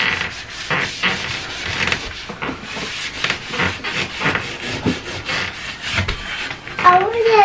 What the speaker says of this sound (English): as you can see, I'm really not scrubbing that hard